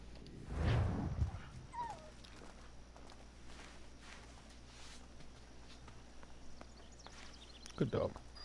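A dog in a video game whimpers and yips briefly amid footsteps and game ambience, with louder bumps at the start and end; talking can be heard.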